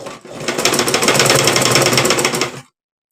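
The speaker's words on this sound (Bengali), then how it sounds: "এখন আমি সেলাইটা দিয়ে নিচ্ছি।" A sewing machine stitching saree fabric for a cutwork dress runs in one loud, continuous mechanical whir for about two and a half seconds before stopping abruptly.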